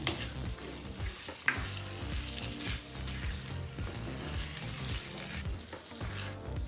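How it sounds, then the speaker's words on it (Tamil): Steady, dense sizzling of chicken sautéing in a pan, with occasional stirring clatter, continuous throughout and fairly close. "சிக்கனை நல்லா வதக்கிக்கலாம்."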